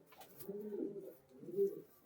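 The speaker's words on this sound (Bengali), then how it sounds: "আমি পায়রার ডাক দেখিয়ে দেবো" A Giribaz pigeon coos close by, two low rolling coo phrases separated by a short pause, soft and alone in a quiet space.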